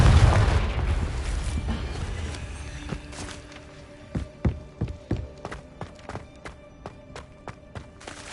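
A Confringo blasting spell in a Harry Potter video game bursts with a heavy boom at the start, then a quick run of sharp, punchy pops and impacts rattles out over a low rumble.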